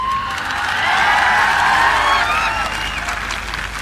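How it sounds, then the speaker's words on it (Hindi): Sustained audience applause mixed with cheering and whistles from a large crowd at a political speech in Gujarat, loud and steady throughout with no talk over it. "आप लोगों ने जो तालियां बजाई"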